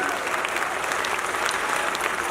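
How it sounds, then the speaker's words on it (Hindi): Audience at a Hindi comedy show clapping, a dense, steady wash of applause from a crowd, fairly distant and continuous for the whole moment. "ताली वाली बजा दीजिए मस्ती से, आनंद से।"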